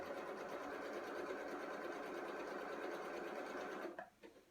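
A sewing machine stitches patchwork quilt squares in a steady, fast continuous whir, close and even, stopping abruptly near the end with a few quiet handling sounds.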